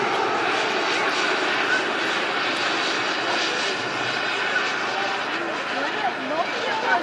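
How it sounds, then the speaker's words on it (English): A radio-controlled model jet aircraft flies at a model aircraft fly-in, giving a steady engine whine across the whole clip, with voices over it. "Jet number 2. We have 2 jets today."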